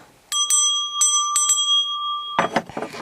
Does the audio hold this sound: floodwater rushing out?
no